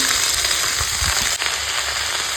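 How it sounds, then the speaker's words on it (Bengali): Chopped onion, garlic and green chilli fry in hot oil in a pan, giving a close, continuous sizzle with small crackles throughout. "এই যে পেঁয়াজ রসুন কাঁচা লঙ্কা দিয়ে দিলাম দিয়ে ভেজে নেবো"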